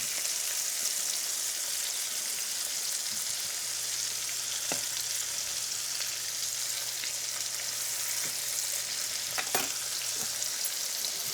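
Cubed pork loin steak fries in a pan with a constant, fairly quiet hissing sizzle, broken by a few brief clicks and taps from the cookware.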